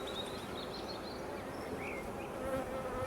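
Steady, dense buzzing of many black honeybees close by at hives, a continuous hum with no voices.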